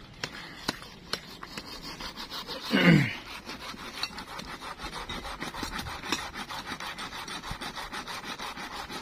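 A hand saw cuts through wood in steady rapid back-and-forth strokes, close and rasping, with one louder grinding burst early on and no talking, out on a tree-hunting trip.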